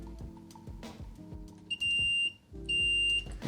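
Two sustained electronic beeps from a voltmeter in continuity mode while probing pin 8, the wake wire, on a Mercedes S-Class W220 wiring harness; each tone lasts about half a second, loud and close over light handling clatter.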